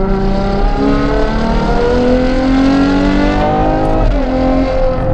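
A Ferrari Purosangue fitted with the Novitec Esteso widebody kit drives along, its engine a loud, steady drone with rising and shifting tones as it pulls and changes gear, heard from close by with no talk.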